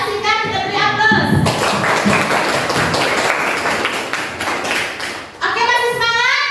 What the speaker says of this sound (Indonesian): terima kasih kepada Asita, kita beri aplaus